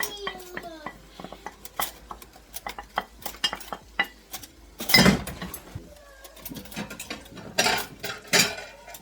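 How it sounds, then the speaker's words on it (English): Cutlery and plates clatter in a home kitchen while a shrimp meal is served, with steady clinks, scrapes and knocks of metal on crockery close by and a voice talking now and then. "I'm gonna get the spoons and I should get the plate."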